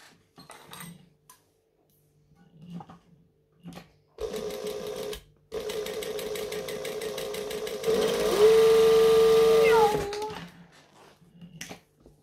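A sewing machine stitches fabric during a Cassia pattern tutorial, running in a couple of close, steady bursts separated by a brief pause, its whirring motor rising higher toward the end before stopping, with a few faint handling sounds before and after.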